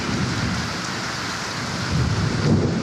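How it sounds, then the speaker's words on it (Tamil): Heavy rain pours down in Bhuj with thunder rumbling through it, a steady dense roar close by that swells louder toward the end, with no voices. "இவ்வளோ மழை அடிக்குது"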